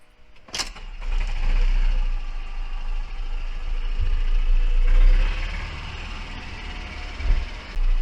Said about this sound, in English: they busted out with a blower